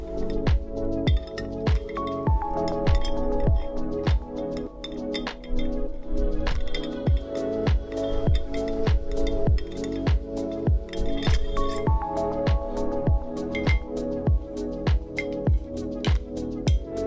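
Steady, rhythmic metallic clinks of tweezers ring out against the inside of a glass gin bottle, one tap roughly every half second, close and clear with a bright resonant ping.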